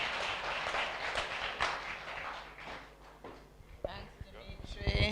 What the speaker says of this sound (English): a round of applause for Sandra, please, as she joins us on stage